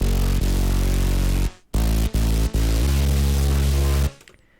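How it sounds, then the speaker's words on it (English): Hardstyle synth bass line built from four layered sounds, loud and heavy with a strong low end, pulsing in sustained notes separated by brief cuts before trailing off. "And now let's look at the bass lines, which sound like this."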